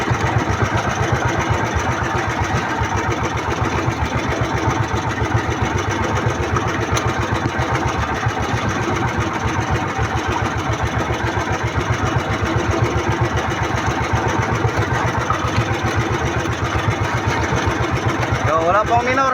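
A boat engine runs steadily with a fast, even chugging rhythm throughout, loud and close, while someone talks over it in Filipino.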